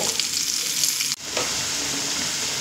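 Potato pieces frying in oil in a pan over a medium flame, a steady loud sizzle that drops out for an instant near the middle and then resumes, with no talking.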